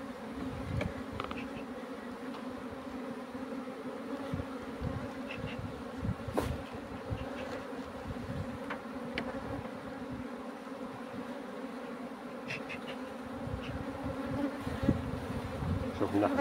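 A steady drone of many honeybees fills the air around an open hive being split into frames in spring, close and continuous with small bursts as individual bees fly past.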